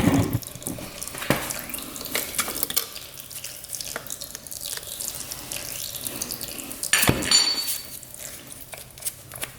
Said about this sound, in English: Oh, all the oil's pouring out.